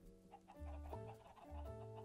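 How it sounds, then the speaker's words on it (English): Chickens in the video game Minecraft cluck softly several times in quick succession, faint and alone with no speech. "Right here, chickens."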